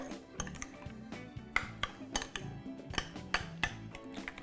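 Vinaigrette being stirred in a bowl, with a spoon or whisk clinking and scraping against the dish in irregular taps and rattles close by, no talking.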